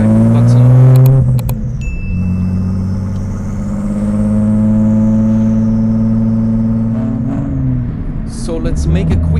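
Audi S4 B5 with its biturbo V6, miked at the exhaust during a hard pull from the driver's seat: a loud, steady rising engine drone with throaty exhaust tone, ending in a brief shift and a clattering spool-down.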